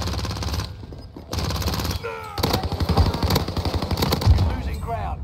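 Gunfire in the video game Warzone on Rebirth Island, with rapid automatic bursts and rattling shots, a brief lull early on, then sustained loud firing mixed with game effects and voices.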